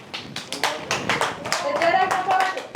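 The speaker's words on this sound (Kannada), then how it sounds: "ಚಪ್ಪಾಳೆ ಹಾಕ್ರಿ." A group of people clap their hands in a steady, lively burst lasting several seconds, loud and close, with a voice faintly audible among the claps.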